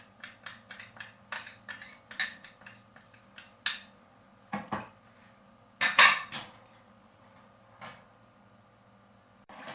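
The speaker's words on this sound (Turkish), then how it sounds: "İçindeki tuzlar eriyene kadar karıştırıyoruz." Metal spoon clinking and scraping inside a pot while salt and lemon salt are stirred into pickle brine, a series of irregular sharp clinks with pauses, close and alone.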